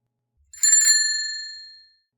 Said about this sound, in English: the sound of a scooter's little bell chimed